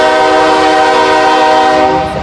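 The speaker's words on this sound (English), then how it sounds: "I live right behind a train, you guys." A passing train blows its horn in one long, very loud, steady blast heard right behind a house, fading slightly at the end, with no talking.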